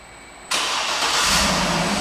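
A 2008 GMC Yukon Denali engine, started by remote start, abruptly cranks and catches, then settles into a steady, loud idle with a slight rise in revs.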